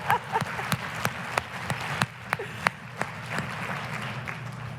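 At a YWCA Columbus fundraising gala, the audience applauds in a sparse, uneven patter of individual claps with distinct louder strikes, under a faint room murmur.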